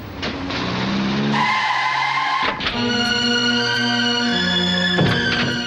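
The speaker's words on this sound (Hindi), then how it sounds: "अरे गाड़ी क्यों रोकी?" Car skidding to a stop in an action movie, tires squealing in sharp bursts over engine noise, loud and close, with a brief break midway and no speech.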